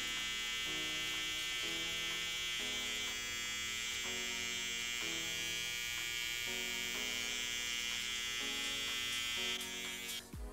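An electric hair clipper trims the corners of a goatee, giving a steady, close, high buzz that runs throughout with music playing underneath.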